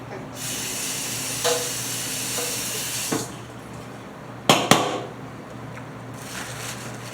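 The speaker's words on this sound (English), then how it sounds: "I'm gonna let them fry on now." Catfish for a po'boy frying in hot oil, a steady broadband hiss with a couple of brief louder crackles and pops.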